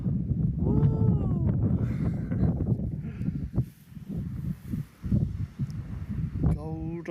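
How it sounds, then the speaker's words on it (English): Strong wind gusting across an open pasture in the UK during metal detecting, a steady broadband roar that buffets the microphone throughout while someone talks over it. "it's windy as hell"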